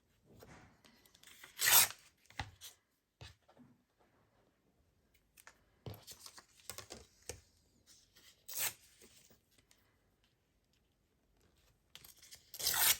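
Recycled paper envelope torn by hand in several separate rips: a sharp loud tear near the start, smaller rustles and rips through the middle, another strong tear partway through and a final rip at the end, with quiet pauses between.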